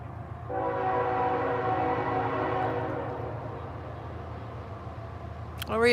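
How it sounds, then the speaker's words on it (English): A passing train blasts its horn loudly and steadily for about two and a half seconds over a continuous low rumble, then the horn fades while the rumble carries on. "the train's coming, so I gotta let it go by here"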